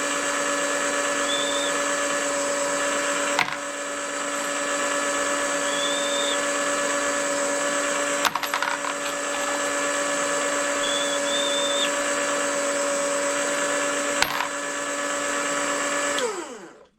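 A brass prep machine hums steadily while deburring 6.5 Creedmoor cartridge brass, its constant whine broken by brief scraping touches and a few short clicks, ending as the motor spins down.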